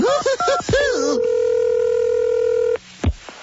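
A telephone number is dialed with a quick series of touch-tone beeps, followed by a long steady tone and then a click and a brief voice, loud and close.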